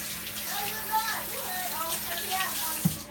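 Water runs from a kitchen tap while hands are washed during baked tilapia preparation, a steady moderate gush with faint splashing and a soft clunk near the end.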